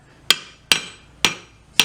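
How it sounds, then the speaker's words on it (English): A heavy hammer pounds annealed silver in a silversmith's shaping work: four sharp, ringing metallic strikes at a steady pace, each close and loud with a short ringing decay. "Get a good heavy hammer."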